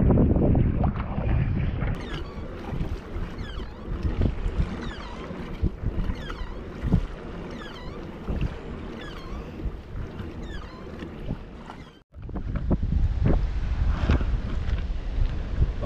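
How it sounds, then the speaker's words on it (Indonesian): Strong sea wind buffets the microphone during kayak fishing in Malaysia, a constant roaring gust with water splashing against the hull and brief louder bursts, with no voices. "angin agak kuat lah"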